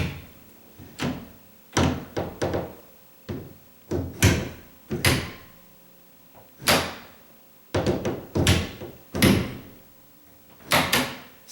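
After a loose hinge has been secured, an interior door is swung shut again and again, each close landing as a soft thud with a light latch click. More than a dozen closings come at a steady pace, close by, with no talking.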